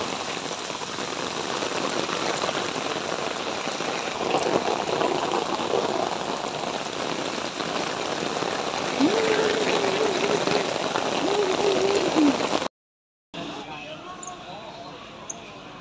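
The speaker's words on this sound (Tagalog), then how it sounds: "Apaw na maulan." Heavy rain pours steadily on a rainy Tuesday, a dense broadband hiss lasting about twelve seconds, then cutting out briefly before resuming. A voice speaks over the downpour partway through.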